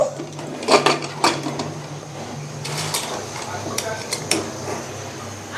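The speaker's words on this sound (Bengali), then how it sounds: "আমি প্রেশার কুকারের ঢাকনাটা এখন বন্ধ করে দিলাম" A pressure cooker lid is closed over a pot of haleem, giving several close metallic clacks and scrapes in quick succession against a soft kitchen background.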